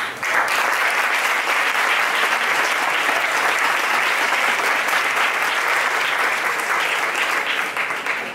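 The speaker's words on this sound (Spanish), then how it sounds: "Un aplauso." Sustained applause from a large crowd at the opening of a Primark store, loud and steady for the whole stretch with no pauses.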